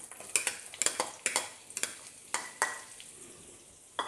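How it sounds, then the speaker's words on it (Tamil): Onions frying in a pan over low to medium heat for paneer butter masala, heard as a soft sizzle under sharp, repeated clicks and scrapes of a spoon stirring against the pan. "இதையெல்லாம் எடுத்துகிட்டு நம்ம இனி ஆனியனை ஃப்ரை பண்ணிடலாம்"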